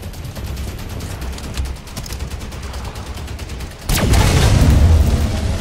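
Gunfire and explosions in the video game Halo 5, a steady crackle of rapid shots that jumps into a louder, denser burst partway through, as if a blast or heavy weapon fire erupts near the player.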